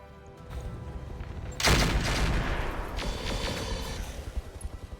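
Mech weapons open fire on an Ifrit in the RogueTech battle game, with a sudden loud burst of gunfire and explosions that holds as a sustained roar, then gives way to scattered rattling shots. Nobody speaks.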